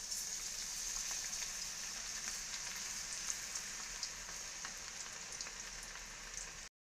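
Ivy gourd pakodi batter deep frying in hot oil, a steady dense crackling sizzle with scattered pops, close and continuous with no voices.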